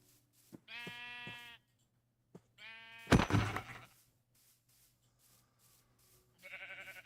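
Sheep in a video game bleat in three separate harmonic calls, fairly loud and close, with a burst of noisy clatter between the second and third and quiet gaps.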